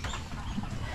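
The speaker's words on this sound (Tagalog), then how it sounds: "Gusto ko yung mga manok na to kasi malalaki yung katawan niya." Rhode Island chickens clucking softly in a backyard flock, a brief low murmur of hen sounds over steady background noise.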